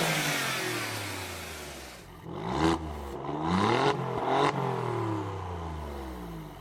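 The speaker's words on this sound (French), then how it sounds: "ce moteur a une sonorité exceptionnelle avec l'échappement Akrapovic Titane Carbone sur notre voiture" An Alfa Romeo Giulia Quadrifoglio with 510 hp and an Akrapovic titanium-carbon exhaust revs hard near the microphone, its engine note climbing and falling through several sharp blips over a loud, continuous roar.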